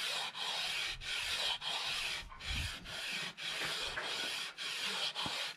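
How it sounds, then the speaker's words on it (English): Sandpaper rubbed back and forth along a cheap guitar neck being radiused, a loud close rhythmic scraping in even strokes with brief pauses between passes, no voices. "Just letting the sandpaper do the work."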